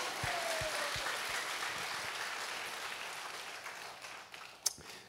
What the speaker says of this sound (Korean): 하나님께 박수 영광.